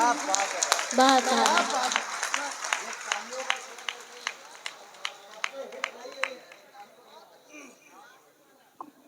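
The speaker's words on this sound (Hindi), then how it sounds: "ये आपकी तालियों का शोर बता रहा है कि इन्होंने बहुत ही शानदार काव्य पाठ किया।" Applause from an audience after a poetry recital at a Hindi poets' gathering at a fair, a dense burst of clapping that thins into scattered individual claps and fades, with a voice speaking over it.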